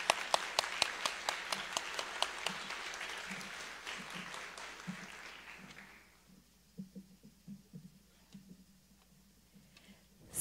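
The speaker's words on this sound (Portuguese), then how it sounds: "uma salva de palmas para todos" An audience at a Brazilian public university's closing ceremony applauds in a dense burst of clapping that fades after about six seconds, leaving a quieter room where someone speaks.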